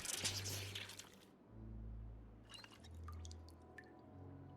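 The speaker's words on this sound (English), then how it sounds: "Sink. Fill our water bottle." Water running from a sink tap into a water bottle in Project Zomboid: a steady liquid stream with dripping, quiet and alone, shifting in tone as the bottle fills.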